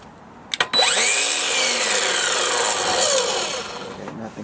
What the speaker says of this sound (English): it's kind of a weak sounding saw